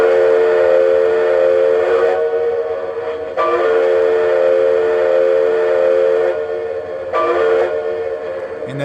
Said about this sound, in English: So let's hear the horn again.